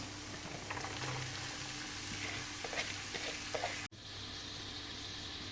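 Purslane frying in a pan with tomato paste, a steady close sizzle and crackle with faint stirring, cutting off sharply near the end before resuming as a quieter hiss.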